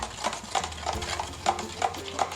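Aloe vera and orange pulp stirred into melted homemade soap, a steady rhythmic series of light scrapes and taps from a utensil against the bowl at close range, about seven evenly spaced strokes.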